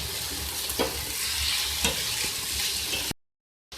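Egg omelet batter with salt being mixed in a pan, with a steady frying hiss and a few sharp utensil scrapes and knocks, close-up, ending in a brief cut to silence.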